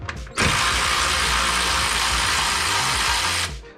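A power ratchet tool spins off bolts on a Toyota Corolla E210 during a cold air intake install, a loud, steady mechanical whir running for about three seconds after a brief start, with no talking.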